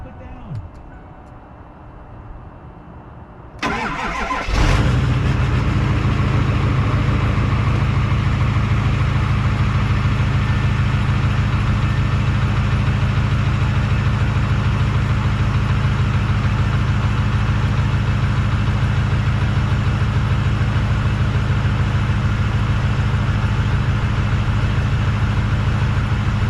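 A diesel pickup truck engine starts up with a sudden roar after a quiet moment, then settles into a loud, steady idle with a rough, knocking rumble that carries on unbroken.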